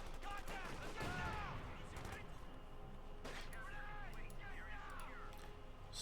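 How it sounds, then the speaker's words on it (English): Light machine gun fire crackles in the Company of Heroes 2 World War II strategy game, with rapid bursts against dense battle noise and a commentator talking throughout. "they're getting blasted by heavy light machine gun fire"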